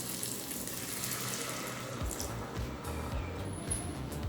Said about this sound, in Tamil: இப்போ கொஞ்சம் தண்ணி சேர்த்துக்கலாங்க.